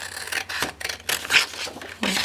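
Scissors cut out paper pieces for a 6x6 mini album, a close series of crisp snipping and rustling strokes in an uneven rhythm, with no talk.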